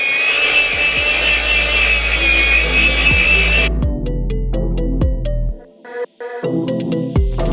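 An electric slicer cuts through semi-frozen beef for jerky, a loud continuous motor whir with repeated scraping passes, then the motor stops and a few sharp knocks and clatters follow.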